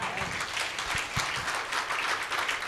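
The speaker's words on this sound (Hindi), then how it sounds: "ताली बजा के प्रभु को महिमा दीजिए," A church congregation at a Sunday service claps together in sustained, lively applause, with a few deeper thumps and voices mixed into the steady clatter of hands.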